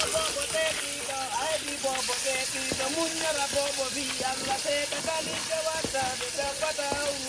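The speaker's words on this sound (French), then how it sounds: "Et je vais rajouter les oignons que j'avais coupés en lamelles." Sliced onions frying in hot oil in a pot for a fish, plantain and sweet potato stew give a steady, close sizzle with crackles and occasional stirring clinks throughout.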